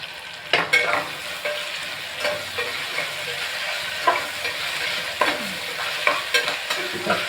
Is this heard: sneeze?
no